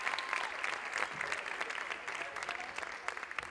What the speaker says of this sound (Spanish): Gracias, señora, la única que aplaudió.